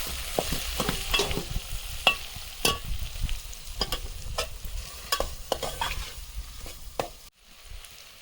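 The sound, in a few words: stirring dry vegetable curry (sukhi bhaji) frying in a pan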